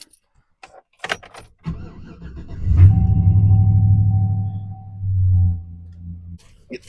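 A car engine cranks and turns over in cold, snowy weather after keys jangle, then settles into a steady, loud idle rumble for several seconds before cutting off.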